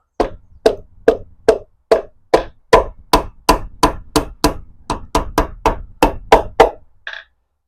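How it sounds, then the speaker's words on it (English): A piston is tapped down into the cylinder of an 18 HP Briggs and Stratton engine with about eighteen quick, close, sharp knocks in a steady rhythm, then a light final clink, with no talk. "Pop the piston in, and we should be able to tap it all the way home."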